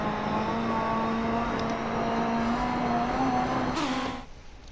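A rally car engine drones steadily at high revs while racing on a tarmac stage in a video game, a loud sustained tone with a brief shift near the end before it fades.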